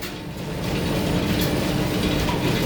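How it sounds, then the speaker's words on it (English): The feed gears on the cross slide of an 1890s lathe engage, giving a dense, continuous mechanical whirr and rattle that grows slightly louder and then holds steady. "This is the pinion that drives the cross slide screw"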